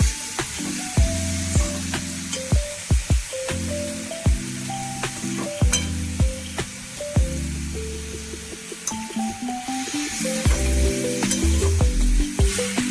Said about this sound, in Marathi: तेवढ्यावरतीच आपलं तो गाजराचा किस व्यवस्थित भाजून निघतो